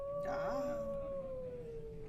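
A howl from a video game's shout used to break down a stone wall, a long, sustained tonal wail that slowly drops in pitch, heard alone over a faint background murmur.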